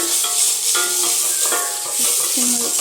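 Onions sizzling and being stirred in a pan during home cooking, a continuous frying hiss with scattered scraping and clinking of the utensil against the pan, close and moderately loud, with no talking.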